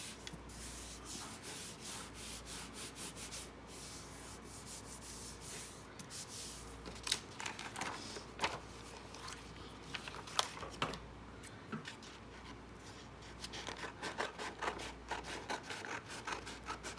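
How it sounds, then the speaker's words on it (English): Cardstock paper is roughly cut around by hand, giving a steady, soft rasping and scraping with scattered sharper snips and clicks, close and fairly quiet, with no talking. "I'm just roughly cutting around this"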